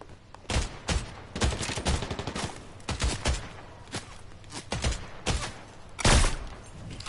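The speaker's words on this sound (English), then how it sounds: "I just sniped him 54 meters" Rapid gunfire rings out in Fortnite, with a sniper rifle among the weapons, as a series of sharp shots crack in irregular bursts, some clustered and some spaced apart, moderately loud with no talk.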